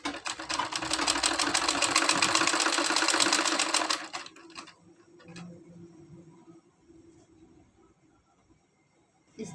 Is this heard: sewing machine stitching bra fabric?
yes